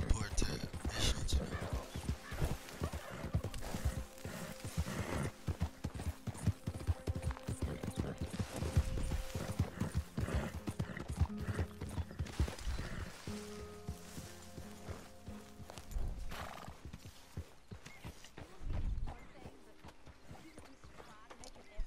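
Steady clip-clopping horse hooves in the video game Red Dead Redemption 2 thud in an even trotting rhythm, fairly close, continuing for most of the stretch before slowing near the end.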